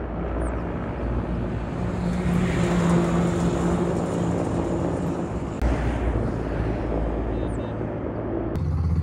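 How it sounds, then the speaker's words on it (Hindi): A helicopter on patrol over Baltal near the Zojila pass makes a continuous airborne rumble that swells and holds, loud and fairly close, with a brief break around the middle. "और थोड़ी थोड़ी देर में हेलीकॉप्टर पेट्रोलिंग कर रहा है"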